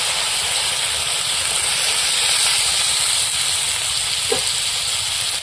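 Water poured into a hot pan of fried lentil dumplings, vegetables and greens sets off a loud, steady steamy hiss and sizzle that lasts the whole moment, close and unbroken, with no voices.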